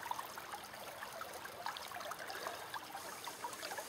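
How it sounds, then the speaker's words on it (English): Water running through a gold prospecting sluice, a soft continuous outdoor trickle and burble with small splashes, faint and steady with no voices. "I'm not getting quite the water flow I'd like, but it's enough to move off the material"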